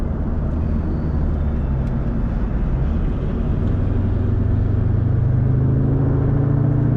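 A large truck with no lights on rumbles steadily past at night, its deep engine drone rising and shifting in pitch as it goes by, with no talking.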